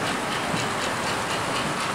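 An American Flyer model train, a silver passenger train on an automatic passing siding, runs along the track with a continuous, fairly loud whirring rattle and faint clickety-clack throughout, with no voices.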